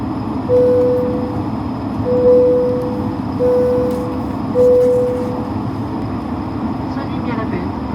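A low, hollow engine drone hums steadily inside the cabin of an Airbus A220-300 before takeoff, with four sustained tonal swells rising above it, somewhat like a whale call.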